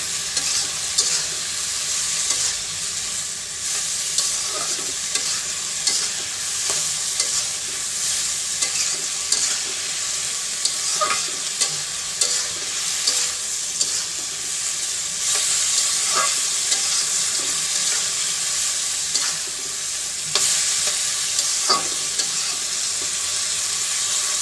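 Curry being sautéed in a pan with chili, turmeric and salt, producing a steady, loud sizzle with repeated scraping stirs throughout and no talking.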